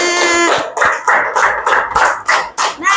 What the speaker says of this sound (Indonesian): tepuk tangan untuk Gina.